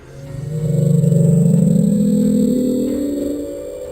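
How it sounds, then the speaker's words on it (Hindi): A mysterious low-frequency sound recorded from the deep ocean, traced to a source thousands of kilometres away, plays as a steady, throbbing drone. It swells for about four seconds with a faint rising undertone and no talking. "समुद्र के नीचे से आती ऐसी फ्रीक्वेंसी को रिकॉर्ड किया जो किसी जानदार की आवाज लग रही थी"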